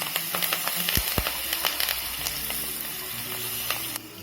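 Curry leaves and spices sautéing in a hot pan, a dense close sizzle and crackle with scattered pops, steady and fairly loud.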